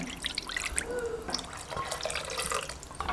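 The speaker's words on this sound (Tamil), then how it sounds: "இப்போ ஒரு அரை டம்ளர் தண்ணி சேர்த்து ஊற்றிக்கலாங்க" Water pours and splashes into a cooking pot of green gram and drumstick kulambu, with trickling, dripping sounds, steady and close, with small clinks along the way.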